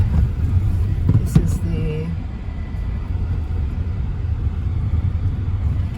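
A car jolts along a bumpy mountain road in Jamaica's Blue Mountains between Lime Tree Farm and Mavis Bank, giving a steady low engine rumble with a couple of sharp knocks from bumps early on.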